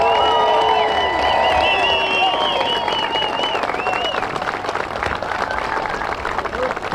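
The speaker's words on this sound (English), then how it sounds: "let's really give them one loud round of applause" A large outdoor crowd claps and cheers loudly for veterans departing on an Honor Flight, the dense applause running the whole time with a few faint voices mixed in.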